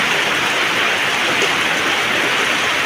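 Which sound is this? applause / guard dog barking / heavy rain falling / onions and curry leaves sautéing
heavy rain falling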